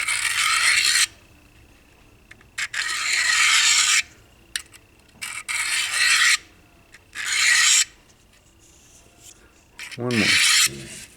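Knife blade stroked on a Harbor Freight diamond hone block, a series of loud, close rasping strokes of about a second each separated by short pauses, with a final quick flurry of scrapes.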